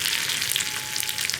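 Three dried red chillies and a sprig of curry leaves sizzling in hot oil while stirred for a Kerala green gram and ash gourd curry, a close, bright, steady crackle with no voices.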